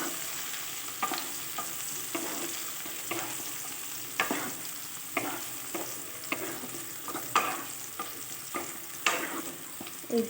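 Sliced onion and split green chilies fry in a pan, giving a steady sizzle with repeated stirring scrapes at an irregular rhythm throughout, close and moderately loud, with no talk.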